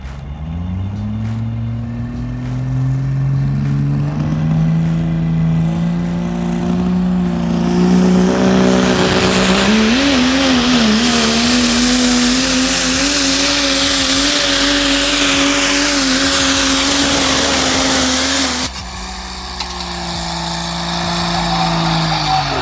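A diesel truck engine roars continuously during a sled pull competition, its pitch rising steadily as it strains under load, then cutting back sharply near the end before building again, loud and close.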